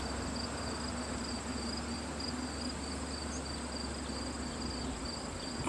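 Crickets chirping steadily beside a lake on a summer hillside, a dense, continuous high trill that fills the whole stretch evenly, with a faint low hum beneath and no voices.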